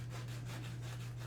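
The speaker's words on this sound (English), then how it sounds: "I'm just going to go ahead and get some sandpaper and kind of clean that up" Sandpaper rubs back and forth over a freshly cut control horn on a model aircraft build, making quick rhythmic scratchy strokes over a low steady hum, close up and fairly quiet.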